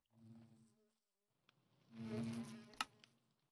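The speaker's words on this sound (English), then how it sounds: "We've got 8 bees." Bees buzzing in the Minecraft modpack Enigmatica 6 Expert: a brief faint hum at first, then a louder buzzing swell with a few sharp clicks, no talk.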